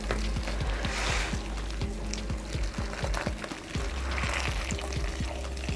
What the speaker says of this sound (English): I'm just going to just bathe the hair in hot water and just submerge it in hot water.